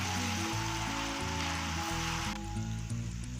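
Masala browns in a pan with ginger and garlic, a soft rain-like crackle of frying heard steadily up close beneath background music.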